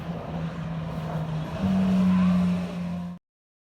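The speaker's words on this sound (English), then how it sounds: "Here comes the Ferrari" A Ferrari drives past on a road, its engine a steady, fairly loud drone that swells as it nears, then holds before cutting off abruptly; no voices are heard.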